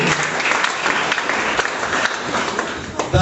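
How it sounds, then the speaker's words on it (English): Audience applause for a speaker at a school debate between Comprehensive and St. Michael's College, a dense, steady clapping that fills the hall for about three seconds without speech. "Let's clap for him again."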